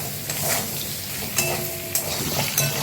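Katla fish fried in oil with turmeric and salt, a steady close sizzle broken by a few sharp scrapes and clinks of a utensil against the pan, no voices.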